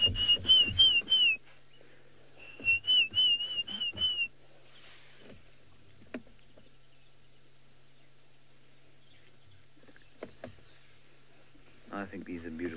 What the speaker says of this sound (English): In the background, you can hear the Diederik's cuckoo.